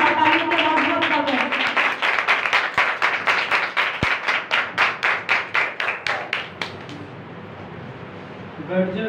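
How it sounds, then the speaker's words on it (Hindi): A church congregation at a Sunday meeting claps to welcome the preacher, first a dense burst of applause, then settling into loud, evenly spaced rhythmic claps in unison that fade out near the end. "आप सबकी भरपूर तालियों के साथ"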